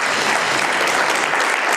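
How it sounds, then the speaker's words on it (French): A conference audience at a mountaineering, climbing and cycling evening talk at a ski and mountaineering school claps for the speakers, dense, even applause filling the room without any talk. "On peut les applaudir pour tous leurs exploits"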